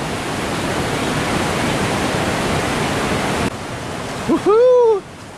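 Niagara Falls river and waterfall roar as a steady broad rush of water that dominates most of the stretch, then drops back before a brief voice-like whoop rises near the end.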